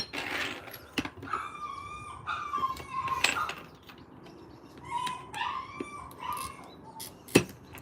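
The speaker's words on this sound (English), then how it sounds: "Sorry, my neighbor's dogs." A neighbor's dogs bark and howl repeatedly at moderate distance, a run of sharp yelps and drawn-out whining howls spread across the clip, with a louder bark near the end.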